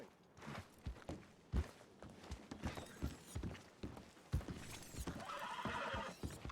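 A horse in Red Dead walks with irregular hoof clops and then neighs, at close range and moderate volume, ending in a brighter burst of noise.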